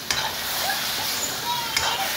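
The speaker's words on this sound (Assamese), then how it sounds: "এতিয়া অলপমান লৰাই থাকিব লাগিব" Chickpeas and paneer seasoned with turmeric and salt are stirred in a hot pan. The sizzle runs steady and close, with a couple of sharper spoon scrapes against the pan.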